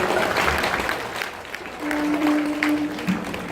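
An audience at a live stage event claps steadily and continuously as a singer is called up, a broad wash of applause that dips briefly then swells again, with little cheering distinguishable.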